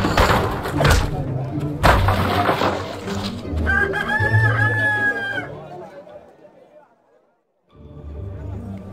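Chickens cluck and a rooster crows in the fantasy video game Fable: The Lost Chapters, the calls mixed with game music and chatter before a brief silence and a return of ambient game sound.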